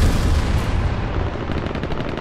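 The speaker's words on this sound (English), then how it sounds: "Call the airstrike." An airstrike in the battle royale game H1Z1 sets off loud, dense bursts of gunfire and explosions, a continuous rapid crackle with heavy low booms, close and without speech.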